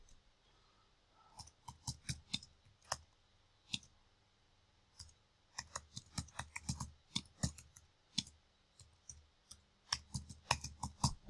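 A computer mouse clicks in scattered sharp pairs and bursts, close and dry, some double clicks quick together, with quiet pauses between and no talk.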